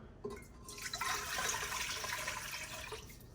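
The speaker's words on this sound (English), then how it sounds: "I'll pour the warm water in here." Warm water pours steadily into a bowl for focaccia dough, a bright rushing splash that swells and then tapers off near the end.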